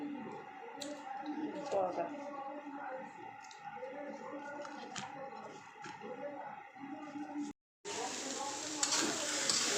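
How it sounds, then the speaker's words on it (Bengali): Noodles cook for a home breakfast, sizzling in a pan under repeated stirring clinks and scrapes. The sound cuts out briefly, then returns as a brighter, louder hiss. "তো এই যে নুডলস রান্না করতেছি"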